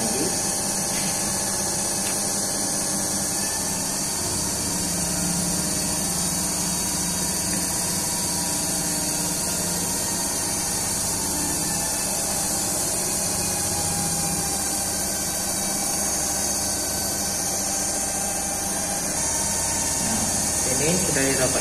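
TERCO DC compound motor running on a lab test bench, a steady dense whine and hum that holds unchanged throughout, loud and close with no pauses.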